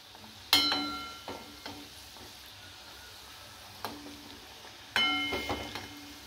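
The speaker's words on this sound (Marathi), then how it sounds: "तर यामध्ये आपल्या मुठीच्या आहेत त्या फ्राय करून घेते मी" Wheat dough muthiya for churma laddu fry in hot oil, making a low bubbling sizzle punctuated by a few sharp metallic clinks of a utensil against the pan.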